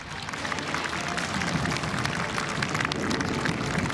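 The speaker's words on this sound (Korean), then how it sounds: "웅장한 기동을 선보인 조종사들에게 힘찬 격려의 박수로 성원해 주시기 바랍니다." Large outdoor crowd applauding military pilots after a helicopter and fighter jet flyover at an Armed Forces Day ceremony, a broad, hissing wash of many hands clapping, loud and steady, with no speech.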